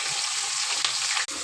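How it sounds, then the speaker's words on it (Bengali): Chopped onions frying in hot oil with dry red chilli, bay leaf and whole cumin, a dense, loud, steady hiss with a brief scrape near the end. "দিয়ে পেঁয়াজটাকে ভালো করে ভেজে নেবো আগে"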